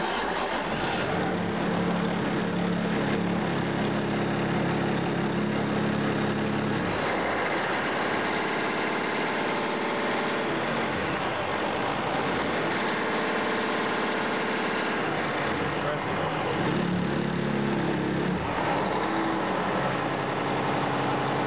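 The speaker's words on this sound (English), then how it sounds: "Well, let's start it and run." A Cummins diesel engine runs with a steady, loud rumbling drone and shifting revs, heard close with no talk over it.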